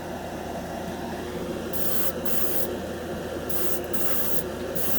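A $20 Harbor Freight dual-action airbrush sprays paint for a scale model, giving a steady close hiss of air throughout. Brighter spurts of spray come and go as the trigger is worked, and no one speaks.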